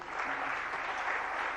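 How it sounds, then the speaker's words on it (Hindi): An audience breaks into steady, dense applause at a spiritual question-and-answer gathering, a continuous wash of clapping heard from a moderate distance with a faint voice underneath. "एक बार जोरदार तालियां"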